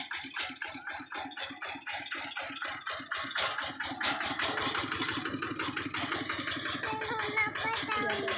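The engine of a modified walking tractor chugs steadily while plowing a field with the plow set to its deepest, a close, rhythmic mid-pitched putter that grows rougher and louder partway through.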